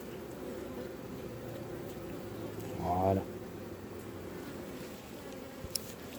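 Honeybees hum in a steady, dense buzz around an open hive during an inspection of a nine-frame divisible hive, close and continuous. A person briefly speaks over it partway through.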